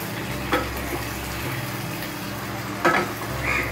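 Chicken pieces are stirred into frying masala for chicken curry, a moderate steady sizzle with two sharper scraping bursts from the spoon, close and continuous.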